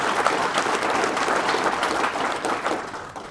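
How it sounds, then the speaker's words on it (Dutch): An audience at an evening talk on hardware testing gives warm applause to three speakers, a dense, even wash of clapping that fades slightly at the close. "Graag nog een keer een applaus voor de 3 sprekers."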